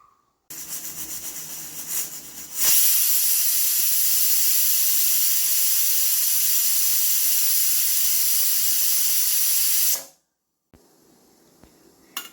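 A loud, steady jet of hissing steam rushes out for several seconds after a brief lead-in, then cuts off abruptly, leaving quiet room noise.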